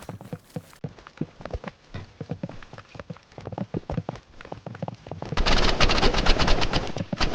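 Rapid gunfire from the shooter game Roblox Rivals crackles in quick bursts, then shifts to a denser, louder stream of shots near the end.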